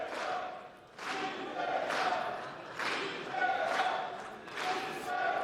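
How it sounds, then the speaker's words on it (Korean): Ruling party lawmakers chant President Lee Jae-myung's name in a legislative hall, a loud crowd of voices rising in rhythmic bursts roughly once a second, repeated five or six times. "이재명 대통령을 연호하고 있는 여당 의원들입니다."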